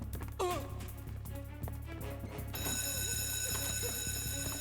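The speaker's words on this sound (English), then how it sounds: "did someone pull the fire alarm?" A fire alarm ringing in Metal Gear Solid 3: Snake Eater: a loud, continuous electric bell that starts partway through and keeps going steadily, over muffled game sounds and brief shuffling.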